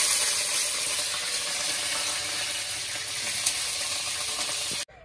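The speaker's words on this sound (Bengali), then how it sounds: "ভালো করে ভেজে নেব, তারপরে আছে আলুগুলো দেবো" Potatoes and spice paste fry in a wok with a steady, close sizzling hiss and faint bubbling that runs evenly before cutting off abruptly at the end.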